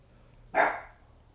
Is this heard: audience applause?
no